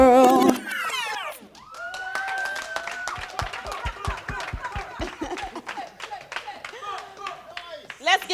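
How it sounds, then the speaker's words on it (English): A crowd applauds a female singer after a live televised performance, with brisk, dense clapping and scattered whistles and cheers. A voice is briefly heard at the start. "Let's give her a round of applause again"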